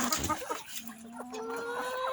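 Chickens cluck and squawk close by in short bursts, with a few rising calls over a steady background hum.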